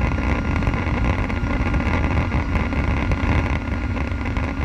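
A WTCC touring car engine roars at full throttle on a Nordschleife hotlap, a dense, continuous, loud in-car drone with wind and road noise, holding steady across the whole stretch without any voices.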